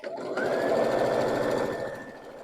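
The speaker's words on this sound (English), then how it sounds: "I'm going to sew right off my block, leave my needle down, lift my foot, and rotate my whole block" A sewing machine stitches a quilt block made of half square triangles: a brief, loud, close burst of steady motor hum and needle rattle that stops after about two seconds.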